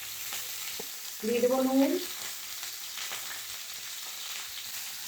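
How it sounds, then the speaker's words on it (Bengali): Chopped vegetables sautéing in oil with turmeric powder for a Bengali fish curry, producing a constant close sizzle with faint stirring scrapes while someone speaks briefly over it. "সবজিগুলো হালকা করে কষিয়ে নেবো"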